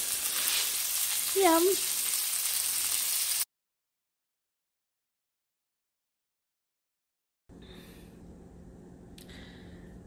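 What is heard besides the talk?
steak sizzling in a pan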